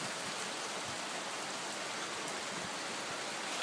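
Rain falls steadily in the mountains at Voineasa, a soft, even hiss of drops spread across the surroundings, continuous and moderately close with no voices.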